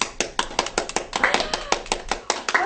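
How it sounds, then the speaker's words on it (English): An audience applauds after a Master Yoda speech at a nighttime Walt Disney World show, with brisk, dense clapping up close and voices mixed in. "let's have a round of applause for Master Yoda and that inspirational speech"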